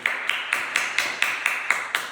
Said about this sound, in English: round of applause for Tasvik